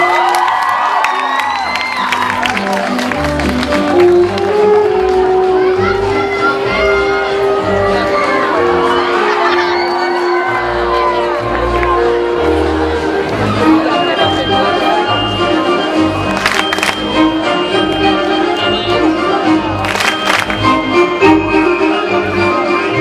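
A film festival crowd at the Giffoni Film Festival greeting two actors with sustained cheering, whoops and high young voices shouting, loud and continuous over the whole stretch, with scattered clapping underneath.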